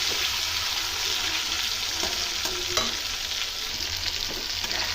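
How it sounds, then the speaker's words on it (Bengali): Chopped tomato is stirred into a frying pan for a Bengali-style vegetarian cabbage dish. Steady sizzling runs under soft spatula scrapes and a few sharper clicks of the utensil against the pan, with no talking. "একটা কুচিয়ে রাখা টমেটো দিয়ে দিলাম এর মধ্যে। একটু ভালো করে মিশিয়ে দেবো।"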